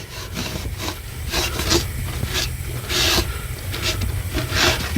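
Varathane paste wax is rubbed onto wooden drawer runners in repeated back-and-forth strokes, a close, loud scratchy rasping with a steady rhythm of about one stroke every half second.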